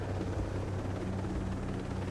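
Helicopter flying in the video game Ghost Recon Breakpoint, a steady, loud rotor-and-engine drone that holds constant and close throughout with no talking.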